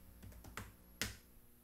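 Several quiet keystrokes on a computer keyboard, then a sharper, louder press of the Enter key, close but faint with no talking.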